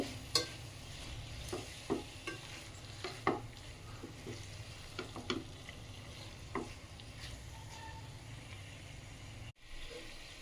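Tomato pieces frying in a pan and being stirred until soft and pasty, a steady low sizzle with repeated scraping clicks of a spoon, close and moderately quiet, no talking.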